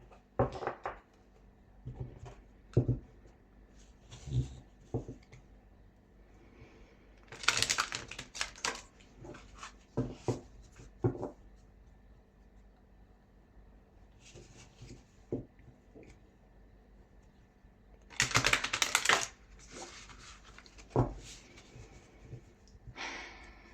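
Tarot and oracle cards being shuffled and pulled in a quiet room, heard as soft scattered taps and riffles with two louder bursts of shuffling, faint and close with no talking.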